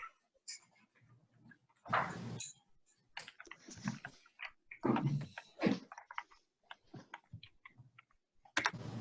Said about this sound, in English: That was the worst typing I've done in a bit.